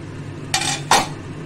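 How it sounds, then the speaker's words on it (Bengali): A lid comes off a cooking pot of potato and tomato curry in a home kitchen, giving two short, close metallic clanks about half a second apart over a low steady hum. "ঢাকনা খুলে দেখে নেব"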